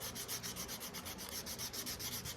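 Sandpaper rubbing steadily along a wooden guitar neck as it is carved, a close, continuous rhythmic scratching in even back-and-forth strokes with no voices.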